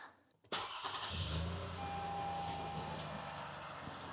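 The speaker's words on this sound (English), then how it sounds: "Okay, start your engines." A car engine cranks briefly and catches during a battery test on a deliberately frozen battery, then settles into a steady, close idle hum.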